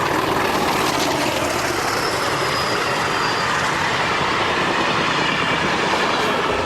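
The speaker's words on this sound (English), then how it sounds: "this 1800 makes its way past CP's main diesel workshops to the nearby depot and fuelling point" A CP class 1800 diesel locomotive rumbles past a main diesel workshop toward a depot and fuelling point in Portugal, its heavy engine drone and rolling wheel clatter loud, close and continuous.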